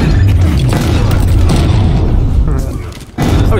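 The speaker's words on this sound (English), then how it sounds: "They're throwing grenades at me!" Grenade explosions in Halo, heard as loud, close, continuous booming and rumbling that briefly drops away and then slams back in, with a player's voice mixed into the din.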